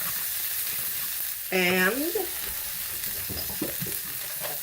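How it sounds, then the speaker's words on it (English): Brussels sprouts and shallots sizzle steadily in a hot pan, a continuous close frying hiss with brief stirring scrapes, while a voice speaks a single short word near the start. "now I shall put in the Brussels sprouts and the shallots"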